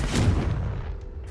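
A single Confringo explosion spell in a wizard video game: one dull, heavy boom that decays quickly into a fading rumble, alone and without talk.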